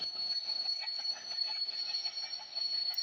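A train in an Indian train driving video game runs with a steady, high-pitched squeal over a faint rolling rumble, quiet and continuous throughout.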